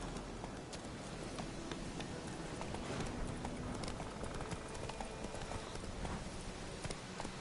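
Horse hooves clip-clop at a steady galloping rhythm in a PS4 video game, fairly loud and continuous over a busy game soundscape.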